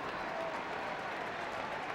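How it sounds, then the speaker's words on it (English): A large hurling crowd at a Leinster semi-final, Dublin against Kilkenny, applauds and cheers steadily as Tommy Walsh goes off, a broad far-off roar under a commentator's voice. "big cheer for Tommy Walsh going off."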